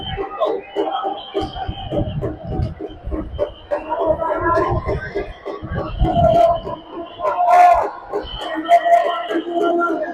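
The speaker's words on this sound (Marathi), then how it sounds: "संपूर्ण परिसर गर्दीने भरलेला." A large crowd at the Snana Purnima festival in Puri fills the air with a dense, shifting murmur of many voices, with occasional louder calls rising over the hubbub.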